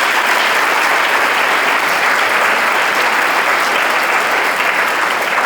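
An audience at a school event claps together, a loud dense burst of applause sustained evenly for several seconds with no voices.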